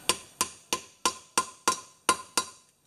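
A small hammer taps a 1/2 inch socket to seat a valve seal on a Vortec 350 cylinder head, giving eight sharp, evenly spaced metallic knocks with a ringing tone.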